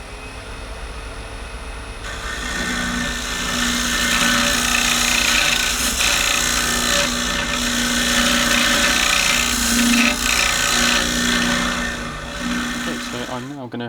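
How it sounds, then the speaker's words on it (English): Parting tool used as a scraper on an olive ash cup spinning on a wood lathe, run from centre to rim; a steady, close, continuous whirring hum with a harsh scraping layer that holds for most of the stretch. "I'm going to use the parting tool like a mini scraper really, and I'm going to run it from the centre out to the edge of the rim"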